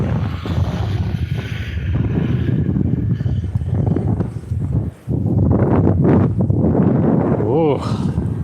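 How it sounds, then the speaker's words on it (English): Moderate wind in Tokyo buffets the microphone with loud, continuous rumbling gusts, close and rough, dropping briefly before surging back; a person speaks under the wind. "Sorry, it's shaking too much because of the wind."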